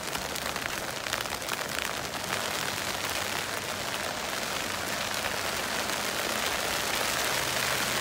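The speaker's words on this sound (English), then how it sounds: "Oh, I hear the rain coming." Rain falls steadily in a garden, a dense, even hiss of drops on leaves and ground, constant and moderately loud with no voices.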